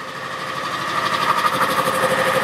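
A newly bought air compressor, set up alongside a homemade mini sandblaster, runs steadily with a continuous motor drone and rattling vibration, growing slightly louder over the few seconds, with no voices.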